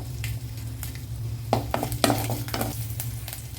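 Garlic sizzling in a pan for peanut chutney, with a soft, steady frying hiss and several sharp scraping stirs of a spoon against the pan, close and fairly quiet, with no talking.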